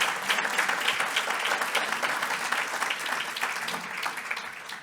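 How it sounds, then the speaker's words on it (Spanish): Audience applause at a business awards event for the third honoree, Banco Santander: dense, sustained clapping from a sizable crowd, steady throughout without voices. "Como tercer premiado le pido un fuerte aplauso a Banco Santander."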